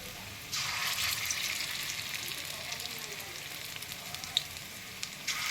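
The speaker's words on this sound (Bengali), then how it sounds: "এবার আমি এগুলো ভাজা হোক, এক পিঠ উল্টে দেবো।" Banana flower kofta balls, fully vegetarian, sizzle in hot oil at a moderate level, a steady crackling fry with small pops and faint stirring.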